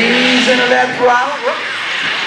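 A diesel super stock truck at a tractor pull revs loud and rough with a dense, roaring engine note that rises and wavers throughout the short stretch.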